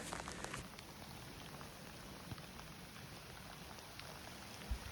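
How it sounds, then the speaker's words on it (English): Steady rain patters down continuously, a soft, even hiss of drops with no voices. "Even with the rain coming down."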